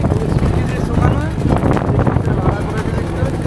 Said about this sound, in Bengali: একটু বাতাসটা জোর আছে বলে ঢেউটা হচ্ছে